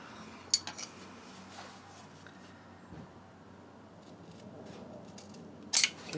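Scissors snip through a marked paper brace template for a WR250E motor mount, giving a few quiet sharp clicks and crisp cuts, one near the start and a louder one near the end, amid a soft room hush.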